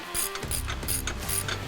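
A hand ratchet tightening bolts on a Harley-Davidson bagger footboard mount gives four quick, close bursts of sharp clicking in an even back-and-forth rhythm.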